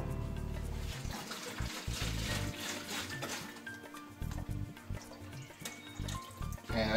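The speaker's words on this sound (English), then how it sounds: "In order to get the rest of the sauce out of here, I'm going to deglaze the plastic bottle." Wine is poured into a plastic sauce bottle to rinse out the leftover sauce. The liquid splashes and gurgles close by, continuous and fairly quiet, with bubbly glugs as it fills the bottle.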